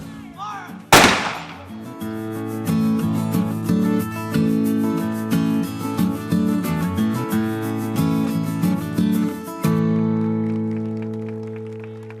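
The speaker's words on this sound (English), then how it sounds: "part of their visit is to be welcomed by a big cannon blast up on the upper gun platform" A cannon on the upper gun platform at Fort Mackinac fires one sharp, loud blast early on, followed by a long stretch of sustained tonal sound carrying on for several seconds before cutting off.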